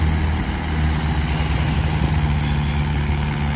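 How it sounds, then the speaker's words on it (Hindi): A Mahindra 575 XP Plus tractor engine with a whistle fitted on its silencer gives a loud, steady, close drone, with a thin high whistle tone held above it throughout. "भाई ने सिलेंसर में सीटी लगवाई हुई है।"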